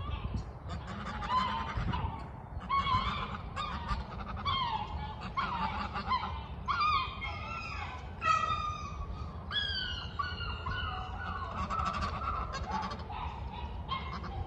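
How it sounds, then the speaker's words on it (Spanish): Geese on a farm honk repeatedly in a noisy, overlapping flock chorus, loud and close, over a low rumbling background. "Mirá cómo están ya los gansos."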